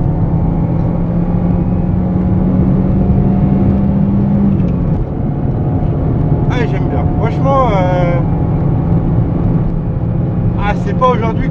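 A Fiat Cinquecento Sporting's small engine drones steadily from inside the car while driving, its hum shifting pitch as it pulls, with someone talking over it throughout.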